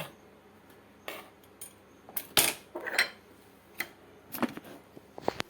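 Ground spices being scraped and tapped into a bowl, a scattered run of small metallic clinks and scrapes from a spoon against the dish, close and fairly quiet, with a busier cluster in the middle.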